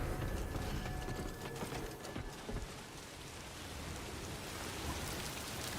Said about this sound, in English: Raining. It's the bad sign.